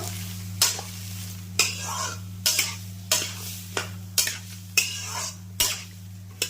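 Turmeric and mustard paste, with salt, is stirred in a hot pan, each stroke a sharp scrape with a brief sizzle, repeating roughly once a second over a low steady hum.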